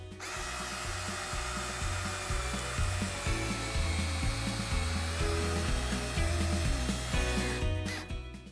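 A Craftsman cordless drill bores into a wood butcher block, its steady motor whine running loud and continuous with rhythmic pulsing grind for about eight seconds before cutting off.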